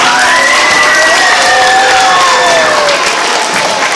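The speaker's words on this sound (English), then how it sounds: "Can we have a big round of applause" A school assembly crowd claps and cheers for second-grade award winners, loud and close, with children's shouts and whoops rising over continuous applause throughout.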